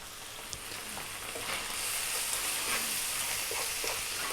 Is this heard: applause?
no